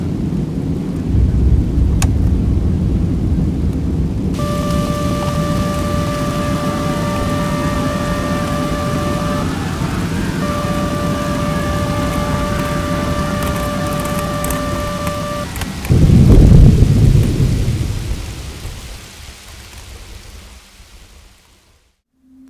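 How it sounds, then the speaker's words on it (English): Steady heavy rain and hail roaring close up against an airplane fuselage during a thunderstorm, with a low rumble throughout, a loud surge near the end, then fading out. "The thunderous sound of rain and hail pounding against the fuselage"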